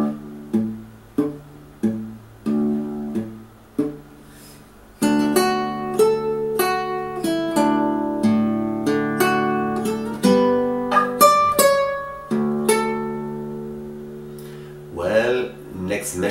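Fingerstyle acoustic guitar plays a piece from The Lord of the Rings, a few slow plucked notes first, then a flowing, ringing melody with bass notes, close and clear. A speaking voice briefly breaks in near the end.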